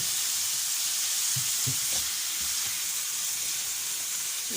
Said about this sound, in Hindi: ये थोड़ा और फ्राई हो जाता है